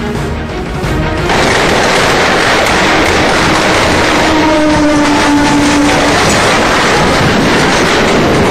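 A train roars past at full speed on a railway track during a crowded Dussehra Ravana-burning gathering in Amritsar, a loud, continuous rumble with clattering wheels and a brief squeal, rising sharply after the first second and staying dense throughout.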